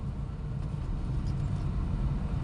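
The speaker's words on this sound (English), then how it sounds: "Brief acceleration." A 7-year-old Perodua Axia E car accelerating briefly in traffic, a steady low engine rumble with road noise heard from inside the cabin at moderate level.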